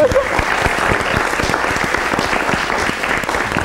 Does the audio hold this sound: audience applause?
yes